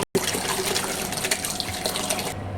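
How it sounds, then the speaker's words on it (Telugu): Drumstick leaves are washed in a bowl of water, making steady close splashing and swishing water sounds throughout after a brief silent moment at the start. "నీళ్ళల్లో వేసి కడుగుతాను."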